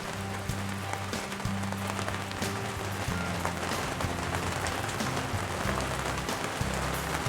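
Heavy storm rain pounding on a tent at a spring bear-hunting camp in Montana, a dense, steady hiss of drops close by, with low tonal rumbling underneath and no voices.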